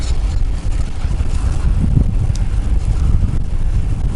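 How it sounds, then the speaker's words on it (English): Wind buffets the microphone while riding a bicycle on a rolling country lane off the main road, a steady low rumble running through the whole stretch with no talking. "The wind is from my right, so there's no problem there."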